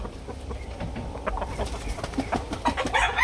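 A Sweater-bloodline gamefowl rooster gives a run of short, fairly close clucks, growing busier and louder toward the end.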